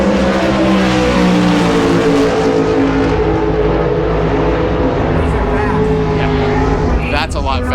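Pro stock drag cars roar together in a four-way drag race, their engines a loud, sustained drone that shifts in pitch as they run, with a person talking over the noise.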